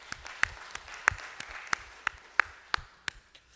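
Scattered, sparse handclaps at a Sunday afternoon church service, a few individual sharp claps spaced irregularly rather than a full ovation, fairly quiet and without talk.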